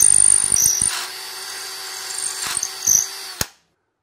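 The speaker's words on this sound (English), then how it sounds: "I didn't use the lathe to drill these holes" A power drill whirs in short bursts drilling holes in a wooden shoehorn handle, pausing in between, then cuts off abruptly with a final brief spin.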